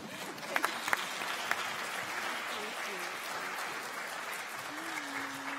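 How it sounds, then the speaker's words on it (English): Audience applauding student speakers at a middle school magnet consortium meeting, a fairly quiet, even patter of clapping with a few sharper claps near the start and brief voices murmuring beneath. "Let's give them all another round of applause, especially the student speakers"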